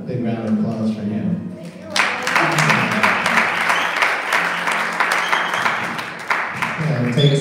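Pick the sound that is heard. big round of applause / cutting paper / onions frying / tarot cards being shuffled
big round of applause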